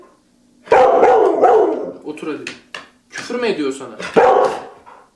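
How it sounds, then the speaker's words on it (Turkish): A dog barks and yips in several loud close bursts, interleaved with people talking in Turkish. "kendisine köpek denildiğinde havlayarak tepki göstermesiyle dikkat çekiyor"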